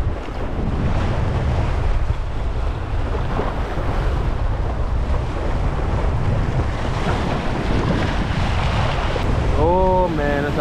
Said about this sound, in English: the waves just getting crazier